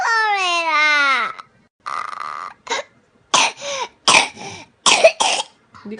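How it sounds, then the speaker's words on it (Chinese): A person coughs in several sharp, close bursts after a long wavering vocal wail at the start, with short silent gaps between the rough, loud coughs. "我嘛搁咧咳嗽啊"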